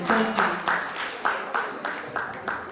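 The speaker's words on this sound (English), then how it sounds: "So a round of applause for Joy Daniels, please." Audience applause for Joy Daniels at an alumni association annual general meeting, heard as a moderate wash of clapping that swells in short repeated bursts, fairly close and steady throughout.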